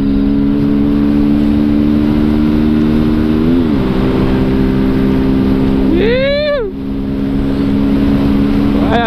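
A 125cc motorcycle engine drones steadily under a rider's talk, its pitch shifting as the throttle blips mid-run, with a sharp rising rev surge before settling back into a steady hum.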